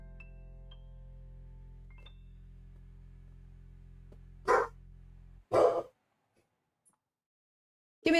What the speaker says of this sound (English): let me just see what my dog's barking